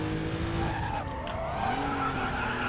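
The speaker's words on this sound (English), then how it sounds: "this one drifts crazily" Tires squealing as a car drifts in the Racing Master racing game, a long sliding screech with shifting pitch over a steady engine roar, loud and continuous.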